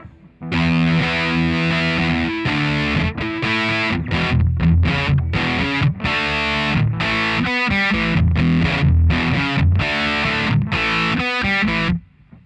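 A heavily distorted electric guitar plays a loose bluesy riff with bent notes and choppy rhythmic stabs, loud and unaccompanied for about twelve seconds, from a song.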